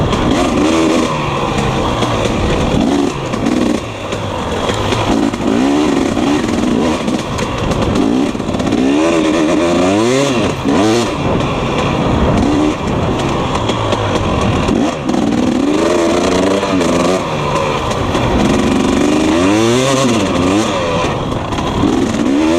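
A 250cc two-stroke dirt bike ridden along a trail, its engine loud and close throughout, revving and rising and falling in pitch with throttle changes, no talking.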